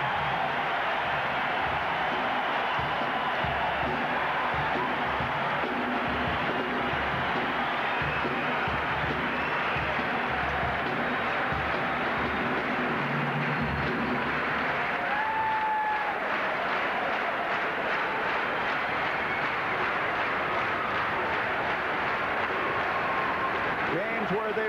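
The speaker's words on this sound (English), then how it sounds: "And now they're clearing the bench. North Carolina, and listen to the crowd." A packed basketball arena crowd at a 1982 NCAA East Regional final between North Carolina and Villanova roars and cheers continuously beneath a commentator's voice.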